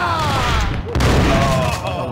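Explosive blasts and gunfire from the Max Payne video game, with a heavy boom near the one-second mark amid dense, continuous firing under someone talking.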